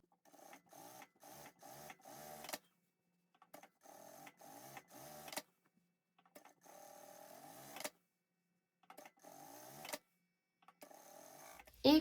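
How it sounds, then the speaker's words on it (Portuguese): A sewing machine stitches parallel seams across quilted fabric for an Easter basket, running in several quick mechanical bursts separated by silent pauses while the fabric is repositioned. "Começo a costura sobre a primeira marcação e depois eu vou posicionando o guia sobre essa costura e vou fazendo as costuras paralelas."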